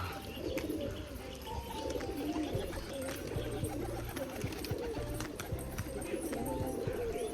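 Pigeons cooing, a soft repeated low burbling from several birds close by, with faint chirps and a light ambient background.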